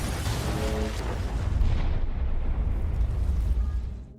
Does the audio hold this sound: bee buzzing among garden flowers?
no